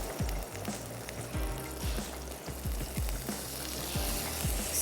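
Flour drops into a sizzling prawn curry base in a pan, a steady close frying hiss with soft repeated thumps from stirring, no talk.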